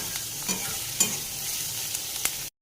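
Chopped onion dropped into hot oil, giving a continuous bright sizzle with a few sharp stirring clicks, close and even, then cutting off abruptly at the end.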